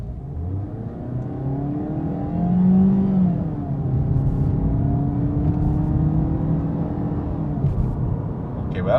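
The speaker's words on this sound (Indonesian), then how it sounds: "Rasanya sama sih karena Mazda tarikannya enak banget sih. Ini kita coba tarik ya." A Mazda CX-3 accelerates in a steady, rising engine pull heard from close up inside the cabin, holding loud and continuous with a smooth climbing drone and no talking over it.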